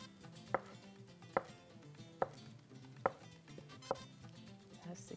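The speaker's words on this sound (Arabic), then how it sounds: "الجبنه خليني اقطعها لشرائح" Cheese being cut into slices with a knife, five evenly spaced crisp cuts against a board, close and quiet over a low background hum.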